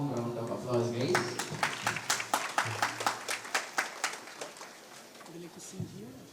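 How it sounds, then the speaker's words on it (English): An event audience at a main stage applauds after an opening invocation song, a steady run of evenly spaced claps that builds and fades, with a host talking briefly before and after. "Let's all give her a warm round of applause, guys."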